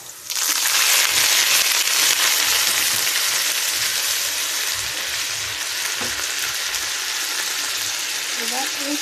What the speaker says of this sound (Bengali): এবার এর মধ্যে আমি দিয়ে দিব সামান্য পরিমাণে পানি।